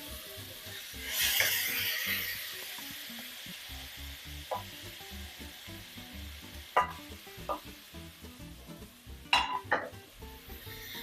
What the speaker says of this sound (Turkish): Şöyle güzelce yağımız ısındı arkadaşlar. Hemen mor lahanalarımızı içine alıyorum.